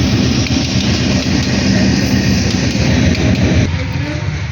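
A train passing close by in Jamalpur, a loud, steady rumble of rolling wagons and engine that holds for about four seconds before easing off slightly near the end.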